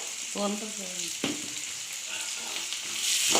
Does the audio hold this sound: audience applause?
no